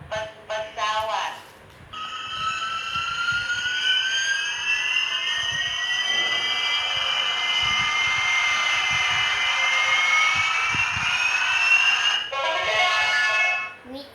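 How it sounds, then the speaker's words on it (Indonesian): Electronic children's toy airplane giving a sustained synthesized jet-engine whine with rising and falling tones, loud and steady for about ten seconds, with brief beeping tones before and after and a person talking briefly. "Pesawat."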